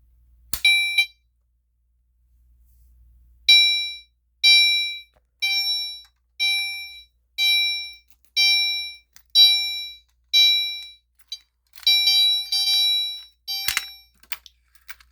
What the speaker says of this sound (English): let's go ahead and pull the fire alarm